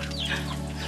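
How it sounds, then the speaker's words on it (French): Hens cluck close by in a loud, continuous flurry of layered calls, filling the brief moment. "Salut les poules!"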